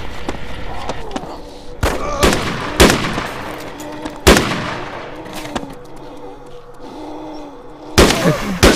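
Sharp, loud rifle shots ring out one at a time in DayZ, about half a dozen spaced irregularly across the span, each with a short echoing tail, while voices talk faintly underneath.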